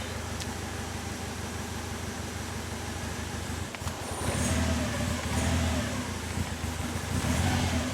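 A Toyota AE86 engine idles unevenly, with a constant close mechanical drone that thickens and grows slightly louder partway through.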